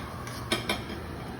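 Chicken being stirred in a frying pan, two quick metallic clinks of a utensil against the pan over a low steady background hiss, near and brief.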